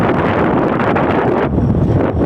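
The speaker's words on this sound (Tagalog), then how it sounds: "Malakas ang hangin, no?" Loud, constant wind in Taiwan roaring and buffeting the microphone, a dense rushing noise with no pauses.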